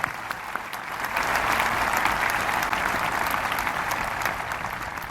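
A high school commencement crowd gives another round of applause for the student speakers. The clapping is even and continuous, with a broad, roomy wash of many hands that holds steady throughout.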